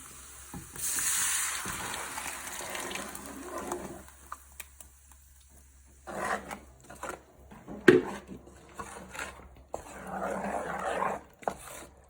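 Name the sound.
blended plum tomatoes, ginger, garlic, onion, scotch bonnet added to sizzling pot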